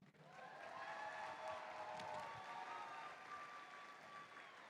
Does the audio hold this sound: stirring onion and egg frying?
no